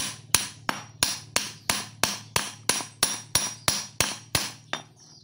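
A hammer repeatedly strikes a car brake master cylinder part during disassembly: about a dozen sharp, evenly spaced metallic blows, loud and close, with no talking.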